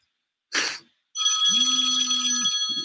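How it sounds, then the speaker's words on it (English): A telephone rings with an incoming call, a loud electronic bell tone ringing for over a second after a short sharp burst of noise. "Another phone call."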